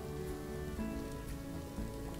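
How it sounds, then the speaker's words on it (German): Steady rain patters continuously in the Planet Zoo game, a soft even wash with a faint musical background and no voices over it. "es regnet, das mag er nicht"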